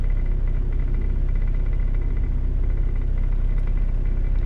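A 1997 Toyota Tacoma 2RZ-FE four-cylinder engine idles steadily with a continuous low rumble as its RPM is brought down, close and alone with no talk.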